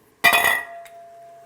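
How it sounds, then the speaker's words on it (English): A spoon scrapes and clinks against a pot while diced Field Roast chipotle vegan sausage is stirred for jambalaya, a brief loud clatter of metal and chunks that fades into a low steady hum. "Give that a quick little stir"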